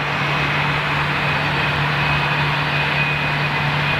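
Steady, loud jet engine roar of a Qatar executive Boeing 747 on the move, continuous broadband rumble with a faint tonal whine held throughout, no voices.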